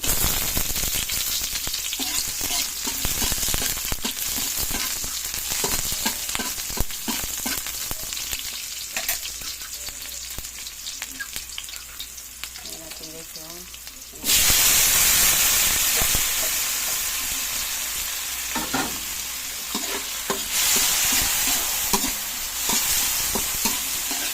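Garlic and onion frying in a hot pan for a coconut-milk mussel dish, a loud continuous sizzle with frequent stirring scrapes, which flares up sharply partway through as more goes into the pan, near and without talk.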